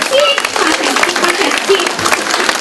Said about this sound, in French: On les applaudit, nos enfants!